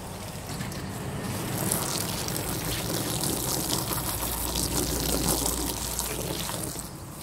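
Running water rinsing soap off a washed surface, a steady close pouring and splashing stream lasting several seconds without pause, no speech.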